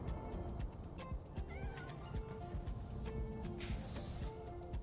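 Cartoonish cats meowing in the video game Powerwash Simulator 2, a string of short mews over busy game sounds, with a brief hissing spray burst near the end.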